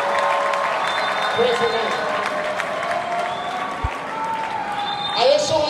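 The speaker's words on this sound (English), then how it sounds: "Come on, let's clap for them." An audience at a church gathering applauds, a steady wash of clapping from a large crowd held at even loudness, with a voice speaking briefly over it.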